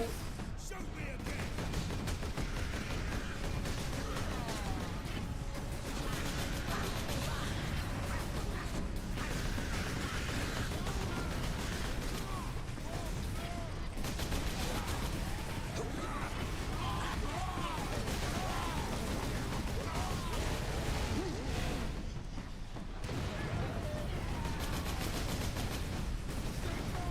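Sustained las rifle fire and battle noise from the video game Space Marine, loud and continuous throughout with dense overlapping shots, grenade-like blasts and a player talking over it.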